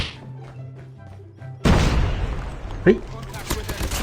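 Pistol fire in the mobile shooter Call of Duty: Mobile bursts in suddenly after a quiet stretch, with loud close shots and thuds followed by lingering game noise.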